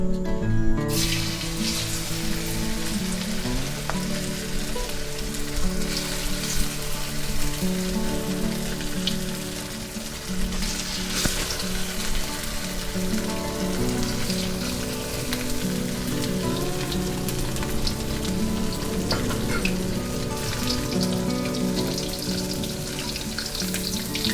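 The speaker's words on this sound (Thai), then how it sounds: "เทคนิคการทอดนะคะก็คือเราจะต้องให้น้ำมันร้อนจัดแบบนี้ก่อนนะคะ แล้วเราก็ค่อยเอา 3 ชั้นลงไปทอดค่ะ" Pork belly deep-frying in very hot oil gives a loud, steady, dense sizzle and crackle like heavy rain, unbroken throughout with no talking.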